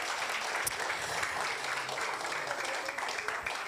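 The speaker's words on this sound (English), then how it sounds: "Could I ask for a round of applause for our speakers" A hall audience gives a round of applause for panel speakers at a civic discussion on elections, steady dense clapping held throughout at moderate volume.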